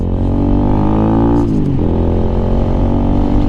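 Lifan KPM 200 motorcycle engine running loud and close, with a brief dip and recovery in revs midway before returning to a steady throb.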